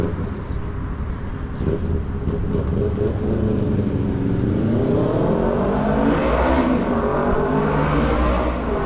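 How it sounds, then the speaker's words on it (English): Motorcycle engine in downtown Meridian, Mississippi, early in the morning, a loud steady rumble that rises in pitch as it revs and accelerates toward the end. "Motorcycle early this morning."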